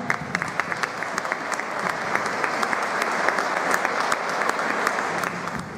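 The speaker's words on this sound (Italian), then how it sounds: "vorrei un forte applauso per venirla qua." An audience at an art event in a villa applauds the newly elected mayor with dense, continuous clapping, sharp individual claps standing out over the crowd wash at a steady level throughout.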